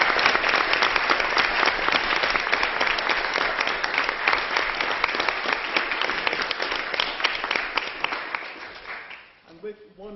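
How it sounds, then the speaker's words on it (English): A debating society audience breaks into a warm round of applause for Carl, dense steady clapping that fills the room for about nine seconds before tapering off as a voice begins speaking. "join me in a warm round of applause for Carl for doing a wonderful job this term"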